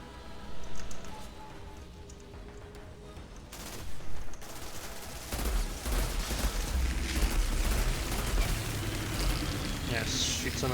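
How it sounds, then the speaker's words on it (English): Assault rifle fire in the Outriders video game, set in a forest: rapid, sustained bursts of shots that grow denser and louder partway through, mixed with clattering game effects and a voice. "Yes, shoot so many bullets."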